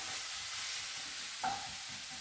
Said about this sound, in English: just give that a mix around, just like that